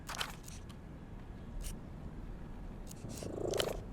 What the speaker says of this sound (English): Listen, it's a big thing petting a high-grade cat like this.